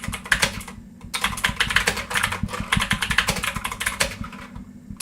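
Rapid clattering keystrokes on a computer keyboard, typed in dense bursts with a short pause near the start and end, close and steady, with no voices.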